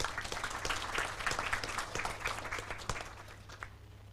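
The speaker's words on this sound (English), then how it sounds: "Give an applause for Bali." Audience applause for Bali at a diplomatic radio forum, a steady patter of clapping lasting a few seconds and fading slightly toward the end, with a faint steady hum underneath.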